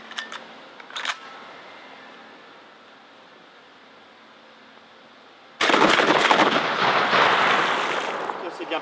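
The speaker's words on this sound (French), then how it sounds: "on va essayer de tirer le plus rapidement possible pour voir la cadence que supporte l'arme sans s'enrayer" A Beretta XPLOR semi-automatic shotgun, quiet at first apart from a couple of mechanical clicks, then suddenly fires a rapid, dense string of loud, close shots that continues to the end.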